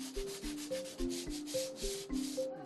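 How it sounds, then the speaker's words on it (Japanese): Dry sanding of a hardened lacquer base coat with waterproof wet-and-dry sandpaper during traditional architectural lacquer work. Soft, rhythmic rasping strokes repeat about twice a second over gentle tonal music, fairly quiet and close. "生地固めが終わり乾燥させた後、耐水ペーパーで全体を研ぎ出していく。"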